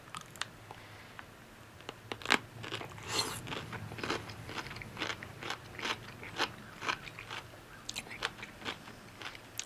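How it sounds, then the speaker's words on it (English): Someone bites into a big red pickle with crunchy skin, giving a series of sharp crisp crunches followed by close, wet chewing, loud and near, with no talking. "Crunchy skin."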